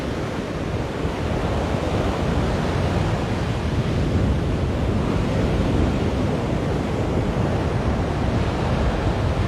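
Surf at Waimanalo Beach, Hawaii, a loud continuous wash of breaking waves with wind buffeting the microphone, steady and unbroken throughout, no voices.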